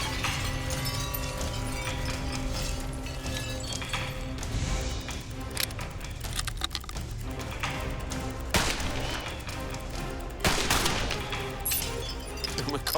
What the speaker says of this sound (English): Joey's 6-chamber revolver quickly takes the lead over my single-shot rifle